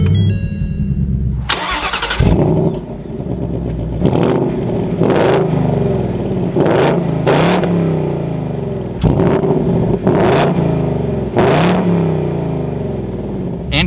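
A 2022 Ford Mustang GT Premium California Special with a six-speed manual cranks and fires up loudly, settles into a rumbling idle, then gets repeated sharp throttle blips that rise and fall several times close by.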